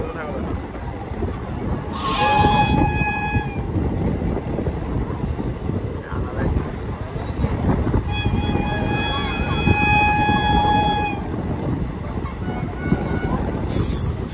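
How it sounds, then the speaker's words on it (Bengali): The first passenger special train on the new Krishnanagar–Azimganj line via the Nashipur rail bridge rumbles past steadily, sounding two long horn blasts, while spectators chatter and someone talks close by. "এই লাইনে প্রথম প্যাসেঞ্জার ট্রেন চলছে।"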